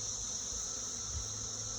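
Russian honey bees buzzing steadily around a hive in a bee yard, a continuous close insect drone with no voices over it.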